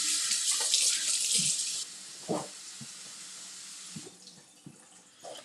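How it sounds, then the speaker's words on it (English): Hands are rinsed under a running kitchen tap during a cooking session, a bright splashing hiss that cuts off partway, followed by a few soft clunks and drips at a sink. "let me wash my hands."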